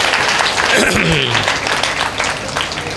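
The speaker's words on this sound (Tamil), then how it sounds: "எப்படி ஒரு கைத்தட்டு கொடுக்கணும்" A crowd applauds at a Tamil debate program marking a Murugan temple consecration, with steady dense clapping throughout and a voice speaking over it near the start.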